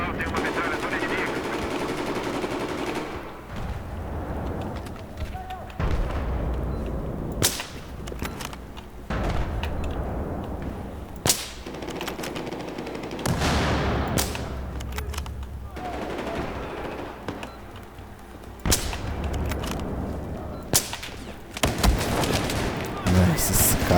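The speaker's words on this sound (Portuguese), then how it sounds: "tem uma metralhadora inimiga" Enemy machine gun fire in the video game Battlefield 4 rattles in repeated bursts, with sharp single shots cracking between them and a player talking quietly underneath.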